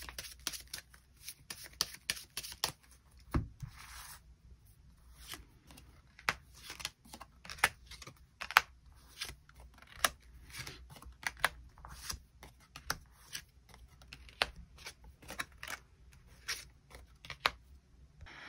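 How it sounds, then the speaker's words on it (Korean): Tarot cards are shuffled and drawn on a table, giving a long run of crisp riffling flicks and scattered sharp taps and snaps, close and fairly quiet, with no speech. "카드 뽑아보도록 하겠습니다."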